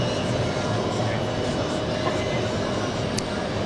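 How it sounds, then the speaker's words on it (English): A Boeing 777-300ER with GE90 engines slows down on the runway after landing at JFK airport, producing a loud, steady, broad roar held throughout. "GE90 slowing down that 777"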